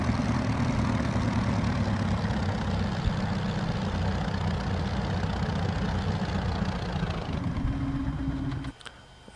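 An aircraft engine in the X-Plane 11 flight simulator, parked on a Norwegian airfield with the parking brake on, throttled down to idle: a steady low drone that holds, shifts slightly near the end, then cuts off abruptly.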